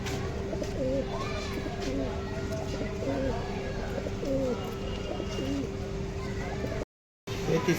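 Pigeons coo repeatedly in soft, low, rolling calls from pairs of birds kept for sale in Malad, Mumbai, steady and fairly close amid background bustle, with a brief dropout near the end.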